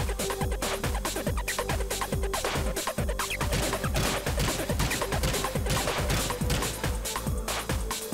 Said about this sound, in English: The next assault rifle is the G36C.